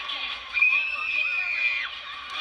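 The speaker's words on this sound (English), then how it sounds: "That was a loud scream." A small crowd at a dance team performance showcase screams and cheers loudly and continuously, with high-pitched shrieks rising and falling over a couple of seconds.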